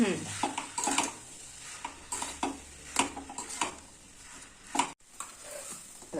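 Boiled potato filling for bread pakora being stirred and pressed in a pan, with intermittent scraping and clinks of a spatula on metal over a faint background sizzle.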